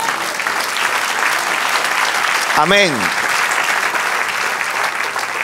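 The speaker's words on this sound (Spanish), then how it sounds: "Den un aplauso al Señor." Loud, dense applause from a church congregation rolls on continuously, with a single voice calling out briefly midway through.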